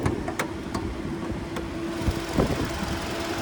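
A 2025 Kia K5 GT Line AWD with its 2.5-liter naturally aspirated four-cylinder idles under the open hood, a low steady hum half-buried in gusty wind noise outdoors.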